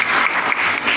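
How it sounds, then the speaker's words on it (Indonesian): Loud, dense applause from a church congregation fills the whole moment, a continuous wash of many hands clapping close by. "Berikan aplaus"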